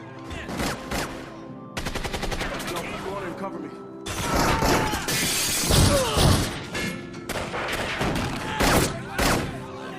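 A film battle scene between Triad and Yakuza gangs fills with dense gunfire and shattering, rapid crackling bursts and crashes layered with music, loud and continuous apart from a brief drop near the start.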